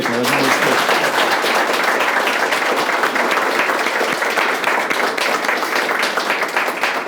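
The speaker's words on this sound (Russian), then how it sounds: "Аплодируем." A large crowd at a meeting with youth comedy teams applauds loudly and steadily for about seven seconds, a dense, even wash of many hands clapping close by with no speech over it.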